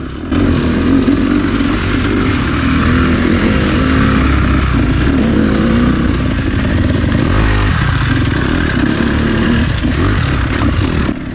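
A Honda CRF four-stroke dirt bike rides around a motocross track, its engine droning loudly and steadily with rising and falling revs through the whole stretch, with no talk.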